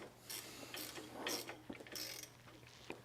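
Bolts on a steerable cultivator being tightened during assembly, a quiet run of clicking ratchet strokes and metallic rubbing in short bursts, close by with no talk.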